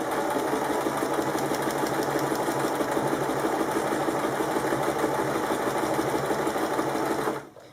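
A sewing machine stitches a kimono wrap top with a steady, continuous mechanical whir at close range, running evenly throughout and cutting off just before the end.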